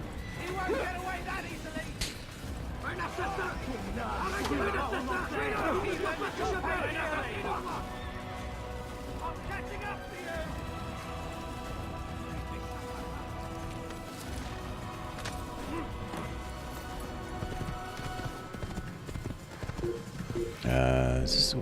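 Hooves clip-clop rapidly in a galloping rhythm amid Assassin's Creed game sound effects and music, with someone talking over it.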